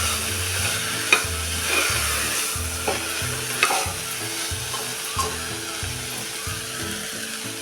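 A crushed paste of ginger, garlic, coriander with stems and dried coconut sizzles in a pan, with continuous frying hiss and rhythmic spatula scrapes and knocks as it is stirred, close and steady.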